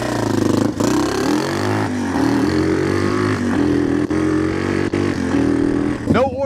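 A Big Wheel 200 motorbike with a very low first gear and a fifth-gear overdrive revs hard close by. Its engine holds a strong, sustained drone with slight rises and dips, and a brief whine sounds at the end.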